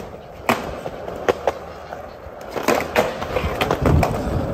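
A skateboard rolls over a rock on sticky concrete outdoors, giving a continuous rough rolling rumble with several sharp clacks and bumps spread across the moment, moderately close and alone.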